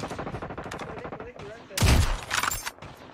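Gunfire in a multiplayer shooter game crackles in a rapid train of shots, followed by a louder, heavier burst of impacts near the end.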